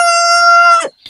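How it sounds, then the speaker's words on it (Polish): A rooster crows close and loud, one long harmonic call that holds steady and then falls away at the end, with a brief bit of other sound after it. "Nie mogę z tym kogutem, już mnie denerwuje."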